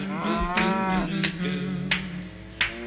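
Cows mooing in several long, low calls, fairly close, with short sharp clicks between them.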